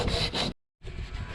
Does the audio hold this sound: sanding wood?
yes